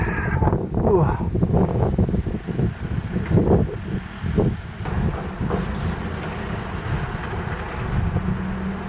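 Strong wind blows down off mountains along a hiking trail in Japan, producing a constant, loud rush and buffeting against the microphone, with someone speaking briefly over it.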